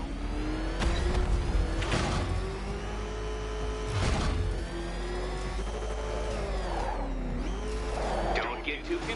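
A fast vehicle's engine racing in Batman: Arkham City, a loud, steady, high whine that rises and falls in pitch as it speeds along, with a character's voice over it.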